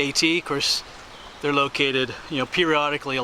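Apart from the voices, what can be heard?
None of the usual background noises is heard.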